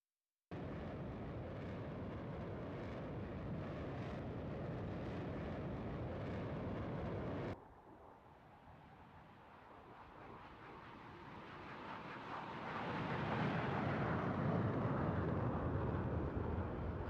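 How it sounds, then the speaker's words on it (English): Eurofighter Typhoon with twin Eurojet EJ200 turbofans at an airshow: a loud, steady afterburner roar cuts off abruptly, then a distant jet roar swells back up, broad and rushing. "Opens up the afterburners and brings the aircraft around and up back into the sky."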